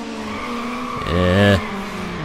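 A race car in Need for Speed: Underground launches hard off the start line, its engine revving up in a steady harmonic climb before cutting off abruptly, loud and close.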